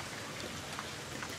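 Rain falls steadily and softly on a roof by a pool, leaking through in places. The patter is a dense, even hiss with faint individual drops, and no one speaks.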